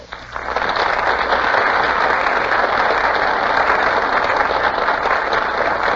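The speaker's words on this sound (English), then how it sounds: "the audience bursts into applause" A studio audience at a radio drama broadcast breaks into applause for arriving stars, swelling quickly from a faint start into a sustained, steady roar of clapping that holds at full strength to the end.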